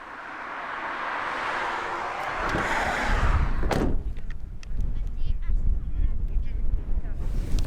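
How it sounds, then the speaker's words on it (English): Strong cold wind on a mountain top in Bulgaria, a heavy roaring rush buffeting the microphone, loud and continuous, with low rumbling gusts and faint thumps in the second half. "I don't even know if you can hear me right now because the wind is crazy up here"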